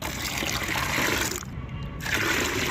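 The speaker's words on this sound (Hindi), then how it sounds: "इसको हमें भर देना है लगभग 1 लीटर पानी से।" About a litre of water is poured onto neem and mustard cake to make a plant fertiliser, producing a steady loud gushing splash, with a brief dip in the flow partway through.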